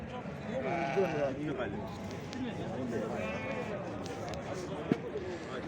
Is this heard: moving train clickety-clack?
no